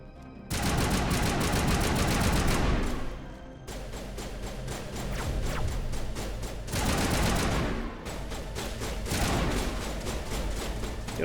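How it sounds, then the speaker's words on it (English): A sniper rifle fires during a Mass Effect combat fight, with loud heavy bursts of gunfire that swell and fade in repeated waves, dense and close over roughly eleven seconds. "that sniper going off"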